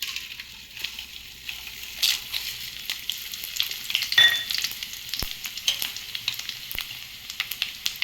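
Dried red chillies, urad and chana dal, mustard seeds and cumin seeds frying in hot oil make a continuous close crackling sizzle, with scattered pops and sharp spits standing out against it.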